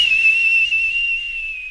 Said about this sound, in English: We must begin with highest pitch of booger whistles.